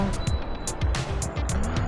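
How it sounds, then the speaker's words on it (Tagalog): Road traffic in Lipa City, Batangas, heard from a motorbike ride: a constant engine and road roar close by, with a rising whine near the start and faint repeated hissing bursts. "ang traffic dito sa Lipa"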